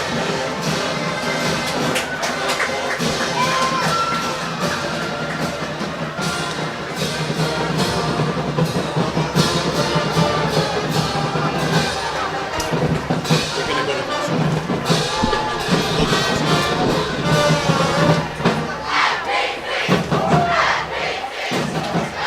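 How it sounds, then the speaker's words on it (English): A football stadium crowd roars and cheers on a Friday night in Flagler County while a band plays, a loud dense wash of voices and drums lasting throughout. "Listen to the crowd, listen to the band, listen to the glory of Friday night in Flagler County."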